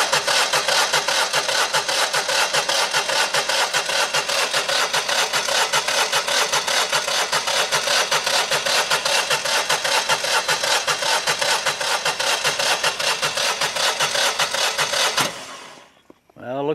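A 17 kW standby generator engine cranks in a cold-start attempt at -24°C, a loud continuous mechanical grinding that runs steadily for about fifteen seconds before abruptly stopping.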